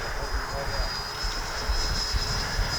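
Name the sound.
FMS F-86 Sabre 80mm RC jet at half throttle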